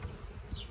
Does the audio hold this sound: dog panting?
no